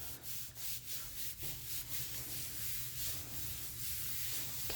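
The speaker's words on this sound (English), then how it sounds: "flat hands, rub in circles, make sure you can feel all four edges" Flat hands rubbing in circles over paper laid on a printmaking plate make a soft, close, continuous swishing friction with faint rhythmic swells, quiet and without voices.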